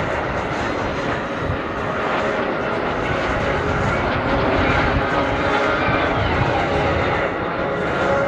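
Breitling Jet Team jets fly in formation at an air show, a continuous loud roar of engines sweeping overhead with steady broadband rumble, no clear talking.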